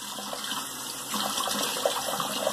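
Water runs steadily from a tap for a rinse during wet shaving, a close, continuous gushing splash that grows a little louder partway through.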